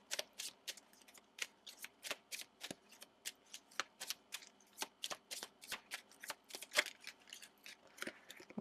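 Handmade quote cards being shuffled for a card reading, a quick, regular run of soft riffling flicks, close and quiet, with no talking.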